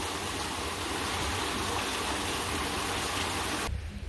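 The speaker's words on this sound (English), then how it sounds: "it sounded like a waterfall" Heavy floodwater from a downpour pours through a gate into a yard in Chamba Valley, Lusaka, Zambia, a loud, steady broadband rush like a waterfall that fills the whole clip before dropping away abruptly at the very end.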